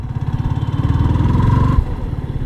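A Yamaha R15 V3 motorcycle engine hums steadily while riding through city streets, with a pulsing mid-range drone that swells slightly before easing off near the end.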